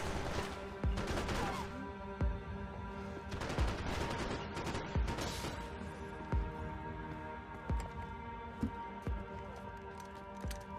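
Gunfire in the video game Max Payne 3, with a steady run of sharp single shots roughly every second over a constant background hum, close and fairly loud, with no voices.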